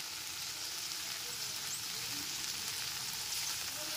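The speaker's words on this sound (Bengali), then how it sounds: "এর মধ্যে 1 কাপ পরিমাণ ওটস দিয়ে দিচ্ছি।" Oats tipped into a hot pan of vegetables and tomato paste, giving a continuous soft sizzle of frying at low volume with no talking.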